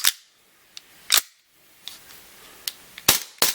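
A Cybergun Sig Sauer P226 gas blowback airsoft pistol cycles with sharp, loud snapping cracks, several spaced irregularly over a few seconds in a quiet room, with softer clicks between them.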